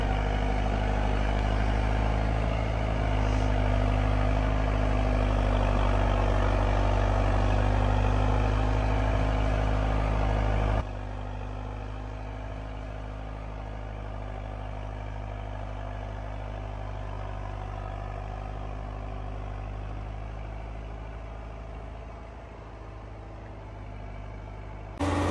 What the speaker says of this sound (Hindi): दो ट्रक एक दूसरे के पीछे पीछे चल रहे थे, एक दूसरे को थोड़ा थोड़ा खींचकर खड़ी फिसलन भरी ढलान पर चढ़ रहे थे।